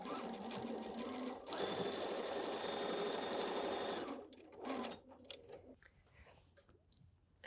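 A sewing machine runs a basting stitch through quilt fabric, a quiet fast whirring hum in a few bursts, the longest in the middle, then stops, leaving soft handling clicks and rustles.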